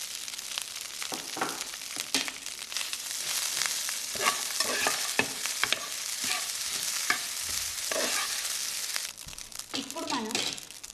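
Mint leaves and rice are lightly fried and stirred in a pan, a steady sizzle with repeated rustling, scraping stir strokes throughout, close by, while a voice talks over part of it.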